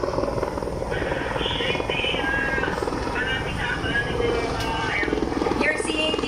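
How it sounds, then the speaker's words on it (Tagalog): A Philippine Air Force medevac helicopter arrives at runway 31 during an aircraft accident drill, its steady rotor and engine roar filling the scene continuously while people talk over it. "You're seeing the arrival of the Philippine Air Force helicopter or air medevac here at the runway 31"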